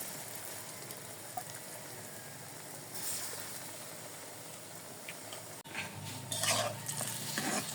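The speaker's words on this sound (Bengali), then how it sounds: "এই যে সবগুলো আমি এরকম করে ভেজে নেব, ছোট ছোট করে ভেজে নেব।" Small palm-fruit pithas frying in oil, a steady low sizzle with stirring and occasional utensil clinks, brightening into louder bursts of crackle toward the end.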